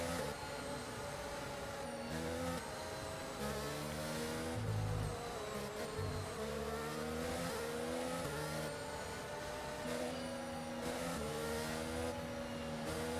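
An F1 race car in a racing video game at the Austria circuit screams with a high, revving engine whine that climbs and drops through gear changes, continuous and prominent with no talking.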